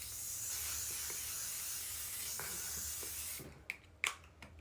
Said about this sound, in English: the finishing touches are this setting spray